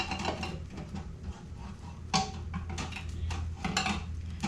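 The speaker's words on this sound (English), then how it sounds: "We're going to load some more jars back in." Glass jars clink and knock against metal as they are loaded one after another into a digital pressure canner, with a steady low hum of boiling water underneath.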